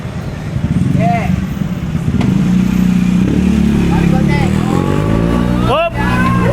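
A motorcycle comes up from behind, its engine droning steadily and growing louder throughout, with people talking and calling out over it.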